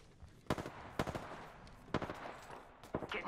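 Gunfire in the Apex Legends battle royale game, arriving as several short sharp bursts spaced about a second apart, mid-distance and moderately loud.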